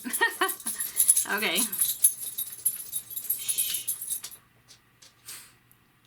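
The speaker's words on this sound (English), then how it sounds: "I know you hear all the little toe sounds and toenail clicking." Two dogs moving across a floor, their toenails clicking and collar tags jangling in quick bright bursts, close by, with a person's brief talk mixed in before the noise thins to quiet.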